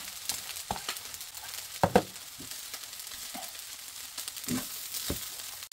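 Butter sizzles and crackles steadily in a hot pan as fried rice is being made, with scattered sharper pops and stirring scrapes over the continuous frying hiss.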